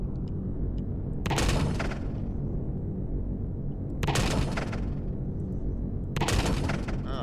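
Railgun shots in Empyrion Galactic Survival, three loud bursts spaced a few seconds apart, each a bright crackling blast over a constant heavy rumble of engine or ambient drone.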